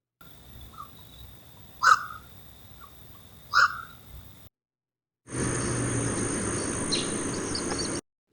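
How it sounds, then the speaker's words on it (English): Recorded wild bird calls from a bird-identification puzzle: two short, bright chirping calls stand out over hiss, then a break and a denser, steadier stretch of calling and background noise. "these are just like actual recordings people have made of different bird calls"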